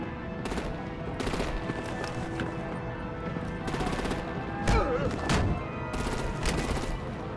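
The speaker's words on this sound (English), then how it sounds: "Break out the artillery and disable their vehicles!" Rapid machine-gun bursts and scattered gunshots in a combat scene from the video game Batman: The Enemy Within, repeated volleys punctuated by sharper single cracks over a steady rumble.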